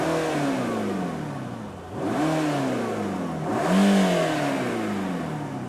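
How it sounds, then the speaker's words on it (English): Mercedes-AMG GT Black Series exhaust after starting, idling with a deep rumble and several rising revs that swell and fall back, loud and close with no talking. "if I turn on the exhaust itself, now you have a more heavier thing"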